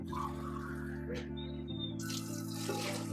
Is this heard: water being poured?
yes